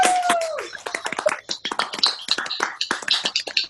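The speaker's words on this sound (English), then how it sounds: "So after 3, we're going to give ourselves a big clap." A small group of people clap together over a video call, a burst of uneven, overlapping claps that starts after a brief tone and runs for a few seconds, fairly close and alone.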